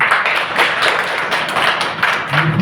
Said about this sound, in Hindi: खंडवा से पधारे इनके लिए डबल तालियां